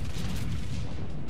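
Bayern battleship firing high-explosive shells in World of Warships, a loud dense booming roar filling the short stretch with heavy low rumble, no voices over it.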